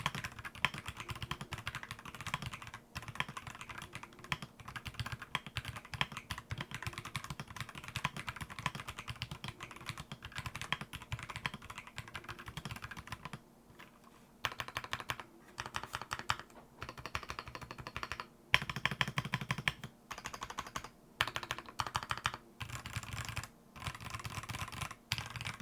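Typing on a Keychron C3 Pro keyboard, a steady stream of quiet, close keystroke clicks in an uneven rhythm, with a few short pauses between bursts.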